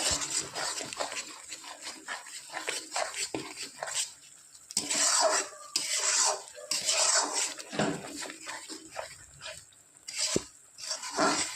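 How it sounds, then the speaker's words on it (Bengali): A ginger, onion, garlic and green chilli paste sautéed in a pan, with soft sizzling broken by stirring scrapes and clinks of a utensil against the pan, while a dog whimpers intermittently nearby. "ভালো করে মশলা আমি কষিয়ে নেব যতক্ষণ কাঁচা গন্ধটা না যাবে।"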